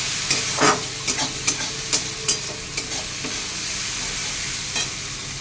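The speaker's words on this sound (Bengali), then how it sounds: "আর একটু হলুদ গুঁড়ো, এবার এটা আমি ভালো করে একটু কষিয়ে নেব" Malabar spinach with chilli powder and turmeric being stir-fried in a pan, a continuous close sizzle punctuated by a run of sharp spatula scrapes and taps in an uneven rhythm.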